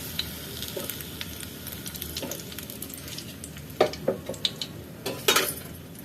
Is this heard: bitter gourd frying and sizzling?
yes